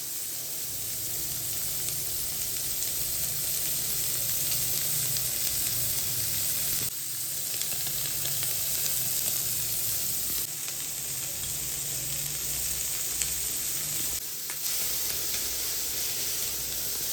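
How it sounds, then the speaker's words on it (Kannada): Fish sizzles steadily as it fries in a hot pan, a loud, continuous hissing crackle with brief dips in intensity, close up and without voices. "ಮೀನು ಫ್ರೈ ಆಗ್ತಾ ಉಂಟು ಗಾಯ್ಸ್ ನೋಡಿ"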